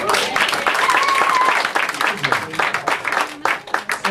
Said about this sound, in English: You guys can clap that.